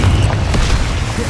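Confringo blasting spell going off in the Hogwarts Legacy video game, a dense, sustained low boom with a rumbling explosive wash lasting over a second, loud and close with no talk over it.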